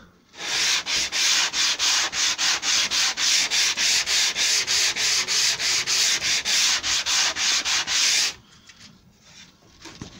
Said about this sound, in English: when you're sanding you want to sand at an angle